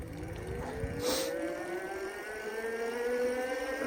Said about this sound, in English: do a top speed run right here. No pedaling, just all throttle.